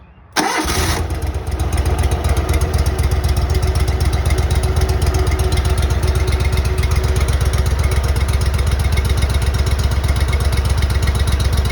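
A small engine runs at a steady idle after a carburetor repair, close and loud with an even, rapid chugging pulse after a brief start-up at the beginning, no voices over it.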